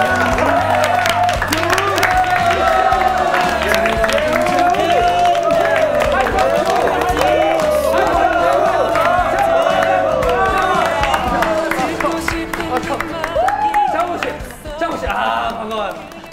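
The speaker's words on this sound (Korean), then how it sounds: "큰 박수로 환영해주시기 바라겠습니다." An audience at an NCT 2018 fan event applauds and cheers to welcome member Jungwoo, with sustained clapping and high excited shouts that fade toward the end under talking.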